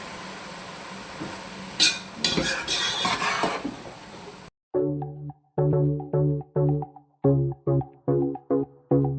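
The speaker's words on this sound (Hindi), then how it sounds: "आराम से हम इसमें मिक्स कर लेंगे" Rice for mutanjan, a sweet rice dish, being gently stirred in a pot, with soft scraping and light clatter for the first few seconds before the mixing stops.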